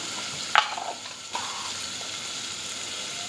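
Roughly chopped tomatoes hit a hot pan with a sharp burst, then settle into a steady, close sizzle as they fry, with no one talking.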